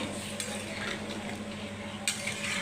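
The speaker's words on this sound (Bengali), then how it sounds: "এই যে গরম জলটা দিয়ে দিলাম" Hot water poured into a pan of frying fish curry, a steady hissing sizzle with faint stirring scrapes and a sudden brighter burst near the end, close by, no voices.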